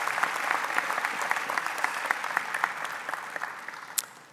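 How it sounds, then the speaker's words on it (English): A graduation audience for Georgia State University's Robinson graduates gives steady applause, a dense patter of many hands clapping together that fades slightly toward the end. "So give them a hand."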